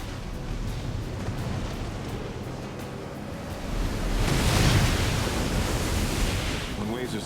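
Heavy ocean surf pounds the shore at Cape Disappointment, a broad continuous roar that swells louder midway through as a large wave breaks, with wind noise mixed in.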